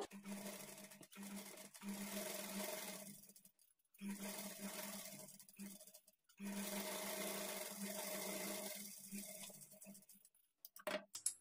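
An electric sewing machine stitches a high-neck blouse in three long whirring runs separated by short pauses, close and steady, ending with a few quick bursts.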